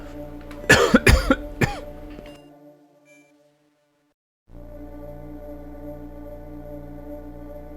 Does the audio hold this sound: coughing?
yes